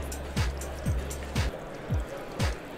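Water trickles through absorbent hazmat material, falling in quiet, evenly spaced drips about every half second over a soft background hiss.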